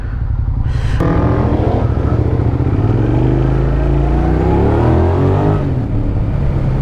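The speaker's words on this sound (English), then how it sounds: "Oh, that sweet sound of an SV650, eh?" A 1999–2002 Suzuki SV650S motorcycle engine runs loud and close, rising into a sharp rev early on, then holding a steady, throaty idle throughout.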